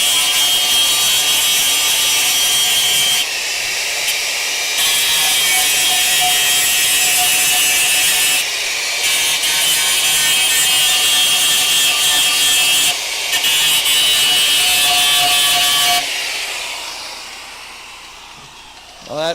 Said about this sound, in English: I'll just hit it with the grinding wheel.